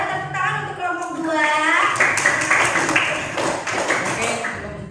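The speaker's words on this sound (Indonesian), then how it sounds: "boleh tepuk tangan untuk kelompok 2" A classroom group claps for a presenting group during a teaching performance session, a bright patter of hand claps building after someone speaks, lasting a couple of seconds at close range before fading.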